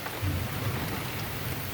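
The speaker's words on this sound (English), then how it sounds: "No sooner did I get in the marsh than this storm rolled in" Rain falling steadily over a marsh during a thunderstorm, a dense hiss of drops with a low rumble of thunder beneath, continuous and fairly loud throughout with no voices.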